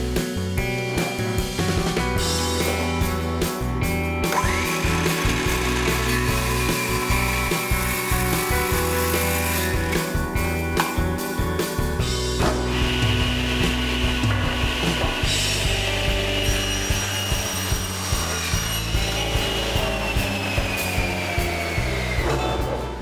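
Sapele wood boards being cross cut with a power saw while making chair seats, a loud continuous whine of the running blade with shifting pitch as each cut goes through, no talk.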